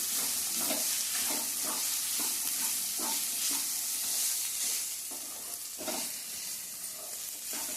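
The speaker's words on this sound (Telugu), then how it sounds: "చక్కగా కొంచెం నూనెలో మగ్గనిద్దాం" Spiny gourd (akakarakaya) pieces frying in a little oil in a pan for a curry, a steady close sizzle broken by repeated stirring scrapes at a regular rhythm, with no talking.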